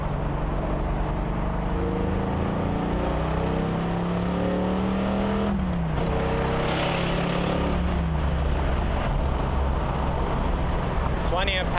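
A 1970 Plymouth Hemi Cuda engine roars while driving, heard from the cabin, rising in pitch as it accelerates and shifts, with wind and road noise throughout.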